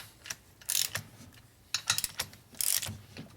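Cylinder head bolts being tightened on a 1992 Harley FXR Evolution 88ci engine, crisp ratchet clicks in short close bursts separated by brief pauses.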